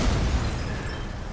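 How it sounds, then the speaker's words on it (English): A tank cannon blasting a gate in Resident Evil 6, a single loud booming explosion that rolls out and decays over a second and a half, with no talk. "I wonder if we can have the tank shoot the gate."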